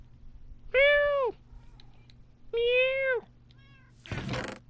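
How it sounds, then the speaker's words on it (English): Two clear, drawn-out cat meows from the video game Minecraft Bedrock Edition a second or so apart, followed by a short burst of noisy rustle. "For someone that can't be around cats, I find their sounds quite cute."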